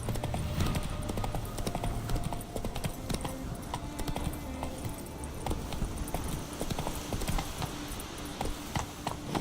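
The horse galloping in the video game The Witcher 3 makes a rapid, continuous clip-clop of hooves, loud and close, with game ambience beneath.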